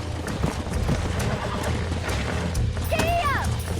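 A horse neighs sharply in Red Dead Redemption on a ranch, a loud rising whinny near the end, preceded by rhythmic hoof clip-clops and background game sounds.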